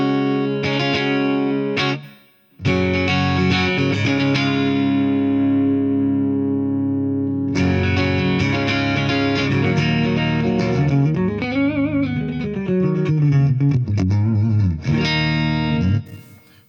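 A clean, chiming electric guitar through the PolyChromeDSP Nutcracker amp plugin plays sustained chords and melodic bends, ringing with light effects, loud and close, with a brief pause early on.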